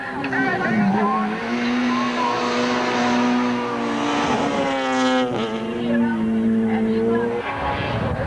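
Volkswagen rally cars on tarmac-specification tyres racing around a sweeping coastal tarmac circuit, engines revving loudly with rising and falling pitch while tyres squeal and scrub through corners, close and continuous.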